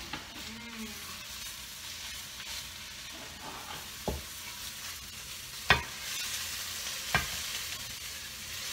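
A cabbage casserole sizzles and hisses steadily up close, with a few sharp clinks and scrapes of a utensil stirring in the dish.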